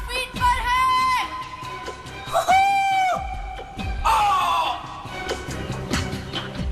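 A man screams repeatedly in a played-back recording made during a skydive at 5,000 feet, long wailing cries rising and falling over rushing wind noise, loud and close.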